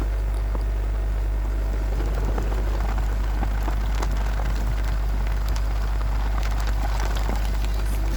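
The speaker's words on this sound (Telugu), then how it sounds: "వర్షం సౌండ్ అనిపించింది కదా" Steady rain patters densely in a forest with scattered drops and ticks, a constant wash of noise over a deep low hum.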